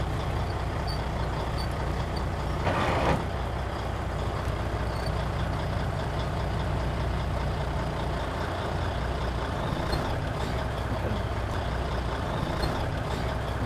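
A tractor-trailer truck's engine drones steadily and close while pulling against the parking brake during a CDL pre-trip inspection, with a brief hiss-like burst partway through and no talking.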